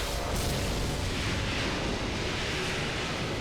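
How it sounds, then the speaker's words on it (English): A loud, sustained rumbling blast that roars on for several seconds with no break, dense and booming, an explosion in Dark Souls 2. "This explosion sound is so over the top"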